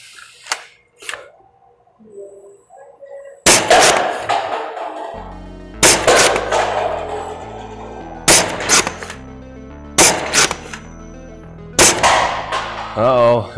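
Shots from a Caliburn gun ring out loud and close as several sharp, separate bangs spaced a second or two apart, each with a short ringing tail, after a quieter opening stretch.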